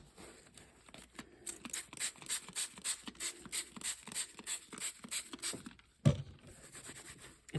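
A paper towel wipes across a craft stencil in a steady series of about a dozen rhythmic rubbing strokes, close and fairly quiet, ending with a sharper handling noise.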